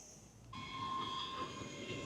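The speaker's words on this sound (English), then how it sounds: "That's the train just arriving" A train pulls into Haymarket Station in Edinburgh, a steady low rumble joined by a sustained metallic squeal of wheels on rail, heard at moderate distance with no voices.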